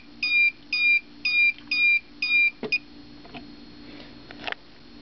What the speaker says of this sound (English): There's the low temperature alarm.